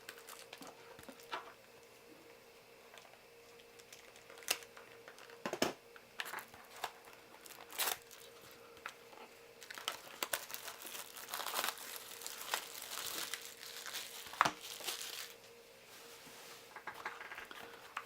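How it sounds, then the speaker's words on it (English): Plastic wrap peeled and crinkled off a Street Proz starter deck card box from 2005, a run of close, light crackling and rustling with a few sharper snaps, no voices. "If I can get the plastic off without ripping the box."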